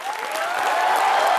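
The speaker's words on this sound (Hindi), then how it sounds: "सो जोरदार तालियों से स्वागत कीजिए उनका।" A studio audience at an Indian television comedy show bursts into enthusiastic applause to welcome guests, a dense, steady wash of clapping that holds strong for a moment, with no voices above it.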